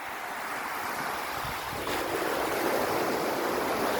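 Sea waves breaking on the shore at Omaha Beach in Normandy, France: a continuous rushing surf that swells louder partway through, with wind noise and no voices.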